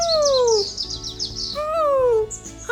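A person imitates a bird call with bright whistled chirps and gliding tones, sung in two long phrases over a soft musical backing at a circus.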